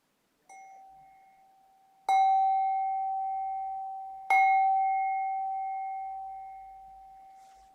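A meditation bell rings to close a practice session, struck three times with bright metallic tones that each linger in a long, slowly fading ring, heard alone in a quiet room.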